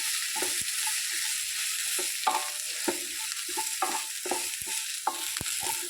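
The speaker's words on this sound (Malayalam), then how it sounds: "അതിലോട്ട് നമുക്കിനി വഴുതനങ്ങ ആഡ് ചെയ്ത് കൊടുക്കാം. നന്നായിട്ട് രണ്ടും കൂടി മിക്സ് ചെയ്യാം." Brinjal pieces are stirred into fried onions in a pan, a spoon scraping and knocking in an irregular rhythm over a soft, close sizzle, with no one talking.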